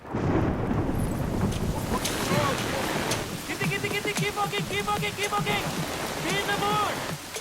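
Steady rain hisses across the whole stretch with a low rumble of thunder early on, and faint voices underneath.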